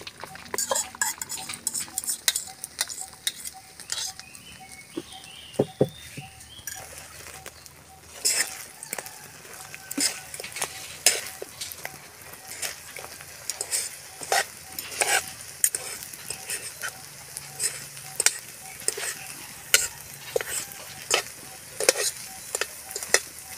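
Egg and kangkong (water spinach) frying in a pan, with a steady sizzle under repeated sharp scrapes and clinks as a utensil stirs against the metal, close and continuous.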